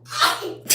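A single sharp sneeze, close and loud, with a quick sharp burst trailing at the end.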